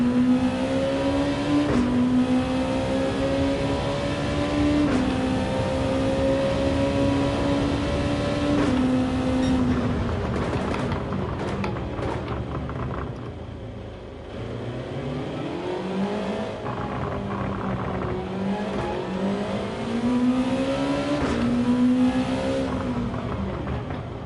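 Race cars in Gran Turismo 7 on PS5 rev and accelerate through repeated gear shifts, with the engine pitch climbing, dropping and climbing again, loud and continuous for over twenty seconds.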